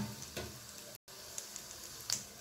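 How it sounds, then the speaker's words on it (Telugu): Lentils, mustard seeds and cumin fry in hot oil for an okra chutney, giving a quiet, steady sizzle with a few sharp pops and one brief dropout. "ఇలా పప్పు వేగుతున్నప్పుడు చిటికెడు ఇంగువ"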